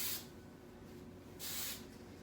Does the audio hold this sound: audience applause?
no